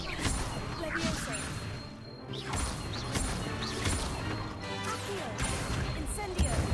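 Levioso levitation spell cast in the Hogwarts Legacy video game, a burst of magical whooshes and crashing impacts over game music, with a voice speaking the incantation.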